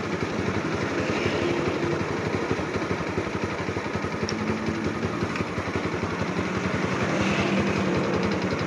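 A Yamaha Jupiter Z motorcycle engine idles steadily, fitted with a used regulator-rectifier; a close, continuous low putter with an even rapid pulse and no speech.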